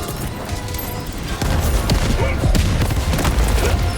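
A grenade blast in the video game Helldivers 2 lands as a loud booming burst with crackling debris, the detonation swelling midway and rumbling on through the rest of the moment.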